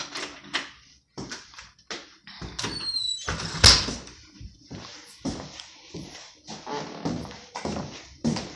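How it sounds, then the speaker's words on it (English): A screen door knocking and rattling in a series of sharp, close clacks and thumps at an irregular rhythm, with one louder bang partway through. "My screen door was open, yo."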